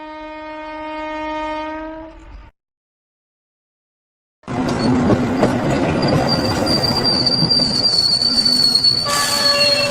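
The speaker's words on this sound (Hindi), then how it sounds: "ट्रेन धीरे धीरे स्टेशन पर आकर रुकती है।" A train pulls into a station at night, its horn blaring loud and steady, then a brief silence before the rumbling, squealing wheels and rail noise of the cars rolling in and slowing, close and continuous.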